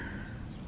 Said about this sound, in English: That bird's funny.